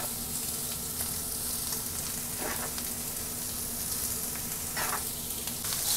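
Rice tossed into a hot wok for Indo-Chinese veg fried rice, Mumbai street-food style, sizzling steadily throughout with a couple of louder stirring scrapes, close and without talk.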